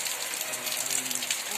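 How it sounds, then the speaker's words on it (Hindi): Heavy rain pours down in a brief burst, a dense, close hiss of water striking surfaces without letup. "आज एक दिन बाद झमाझम बारिश शुरू हो गई है"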